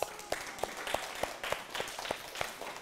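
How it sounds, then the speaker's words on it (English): Sparse, fairly quiet clapping from a small audience at a children's science show at the Adventure Science Center, individual claps standing out in an uneven rhythm. "big round of applause for yourselves"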